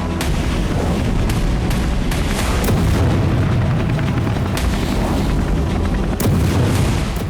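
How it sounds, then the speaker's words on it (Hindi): Artillery bombardment pounding a Russian army training ground in Donetsk, with a dense, continuous rumble of heavy booms and several sharp, loud blasts landing in quick irregular succession. "डोनेट्स्क में रूसी सेना के ट्रेनिंग ग्राउंड पर यूक्रेन ने बमबारी की।"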